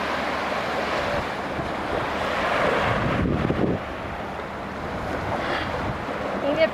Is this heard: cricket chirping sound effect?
no